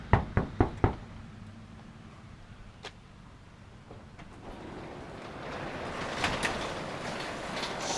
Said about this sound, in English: I'm gonna knock on his garage right now